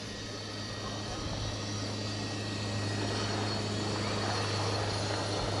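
Aircraft at the Wings Over the Illawarra 2022 air show drone in on approach, a steady engine roar with a low hum building gradually in loudness, captured on an old 1980s VHS camcorder.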